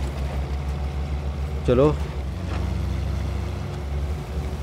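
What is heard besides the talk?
Mahindra Thar 4x4 engine running off-road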